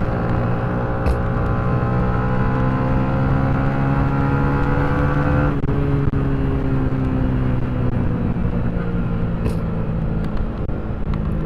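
A Yamaha Sniper 155R motorcycle with an aftermarket exhaust muffler rumbles loud and close, its deep engine note holding steady then shifting pitch midway as the revs change, continuous for the whole stretch without talk.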